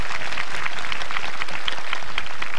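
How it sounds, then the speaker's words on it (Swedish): Applause from a sing-along show audience at Skansen in 1996, a steady, fairly loud patter of many hands clapping with brighter individual claps standing out, continuing throughout. "Ge honom en applåd."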